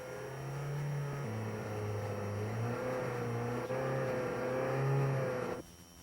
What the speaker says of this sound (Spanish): El motor está marchando en el modo seguridad.